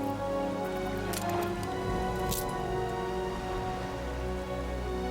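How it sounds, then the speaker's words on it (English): Rain falls in the city-building video game Anno 1800, a steady patter layered over soft game music with a few brighter splashes early on. "Ooh, it's raining."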